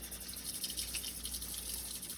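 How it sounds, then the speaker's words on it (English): Short grain rice being rinsed in cold running water, a soft continuous watery trickle and splash, fairly quiet and close, with no speech. "You're gonna wanna take your rice and you're gonna wanna rinse it in cold water."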